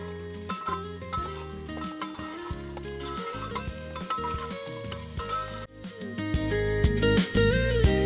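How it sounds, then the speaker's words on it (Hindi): Onions sizzle and fry in a pan for biryani cooked outdoors in the mountains from a campervan, with stirring and utensil clinks, the sizzle swelling louder toward the end. "पहाड़ों में जब आवाज़ आती है ना खाना बनते हुए प्याज की"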